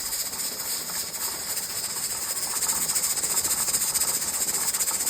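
A pressure canner hisses steadily with steam while canning pork and beans, a dense close hiss that swells slightly louder partway through, with no voices.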